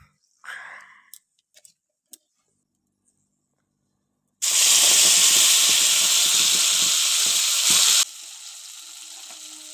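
Spice paste goes into hot refined oil with dried red chilli, sending up a sudden loud, close sizzle that holds steadily for several seconds. A few faint clicks come before it, and a quieter hiss follows.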